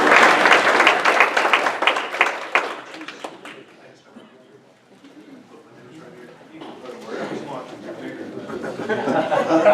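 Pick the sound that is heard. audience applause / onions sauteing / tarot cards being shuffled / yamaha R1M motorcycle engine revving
audience applause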